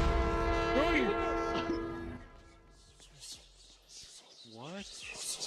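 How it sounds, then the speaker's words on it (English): In a video game, a train horn blares loudly with a sustained multi-tone chord for about two seconds, then fades as the train strikes the players, with voices reacting over the din. "I think we just got hit by the train"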